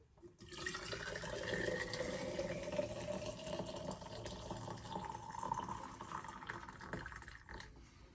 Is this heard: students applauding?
no